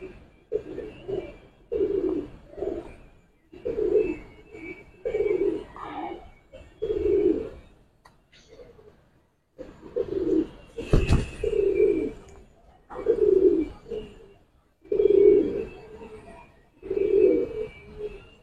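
Giribaz pigeons in a loft give rhythmic, close-up cooing, each low throaty phrase repeating every second or two with brief pauses between bursts.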